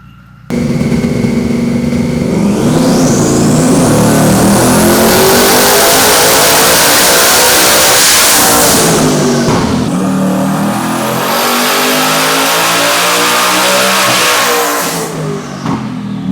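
A twin-turbo Shelby F-150 pickup running high boost, its engine roaring loudly up through the gears in two long rising pulls with a turbo whine climbing to a high pitch, close and sustained, then easing off.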